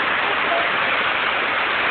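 Rain falling outdoors as a dense, steady hiss of drops, even and unbroken throughout, fairly loud and close with no voices over it.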